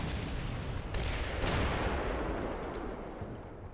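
Gunfire in the video game Combat Mission Black Sea: a dense, rumbling barrage with a sharp burst partway through, loud and continuous, then slowly fading. No talking.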